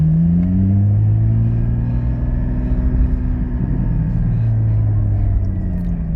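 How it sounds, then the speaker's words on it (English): A car fitted with a Soul Performance V2 exhaust and performance intake runs with a loud, steady low engine drone and droning intake tone, heard up close from inside the cabin with no talking. "And now you can hear that that intake sound from it"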